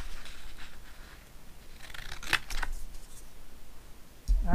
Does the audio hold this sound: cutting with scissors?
yes